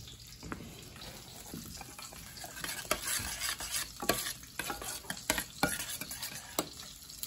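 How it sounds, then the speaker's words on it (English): Chili for hot dogs bubbles and sizzles in a pan, soft popping and crackling with irregular little bursts, faint and close with no one talking. "Be mindful that chili, don't let it start splattering."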